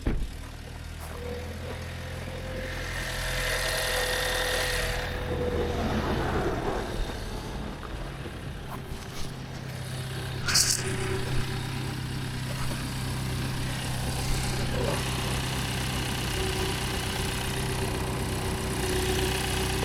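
A BMW car engine runs at a steady idle after its DPF has been refitted, a continuous low hum with a brief rise near the start and a faint clank midway, with no voices.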